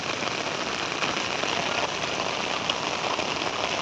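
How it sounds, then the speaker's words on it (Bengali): Heavy rain pours down outdoors in a dense, continuous hiss of drops striking surfaces, steady and close throughout with no speech. "খুব বৃষ্টি"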